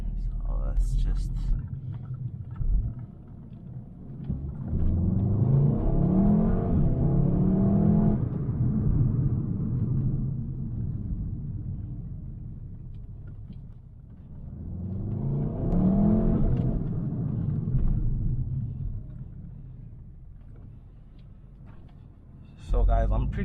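A VW Golf 7 R accelerates hard in two long surging pulls, its engine note rising and falling loudly from inside the cabin, with brief sounds between runs.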